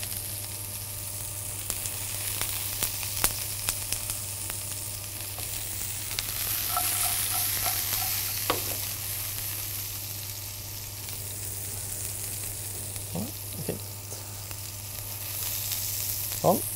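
Chopped root vegetables sauté in a frying pan, giving a soft, steady sizzle with occasional clicks and scrapes of stirring, with nobody talking.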